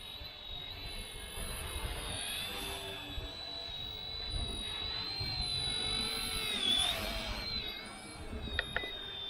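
Eachine E110 Sentry toy drone whirring with a thin, steady high-pitched rotor whine that rises and falls slightly, ending in a few soft knocks as it touches down, no one talking.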